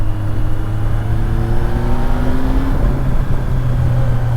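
A 2009 Suzuki Bandit 1250 N motorcycle engine accelerating, a loud, steady, close roar with its pitch climbing smoothly through the revs amid wind rush.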